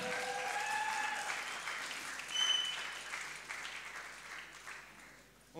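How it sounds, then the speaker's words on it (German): An audience applauds festival organizers at an outdoor campus festival concert, steady dense clapping that holds for several seconds, swells briefly midway and then tapers off. "Ein Applaus für Bastian und Johannes"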